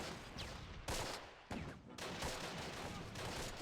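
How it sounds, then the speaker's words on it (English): Mortar teams firing in the World War II strategy game Close Combat: The Longest Day at Carentan, heard as a dense, sustained barrage of loud blasts with several sharp onsets. "we got 3 mortar teams firing here"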